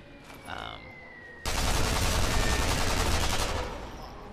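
Sustained automatic gunfire in Sniper Elite V2, a dense loud burst of rapid shots held for about two seconds after a quieter opening with a brief faint tone.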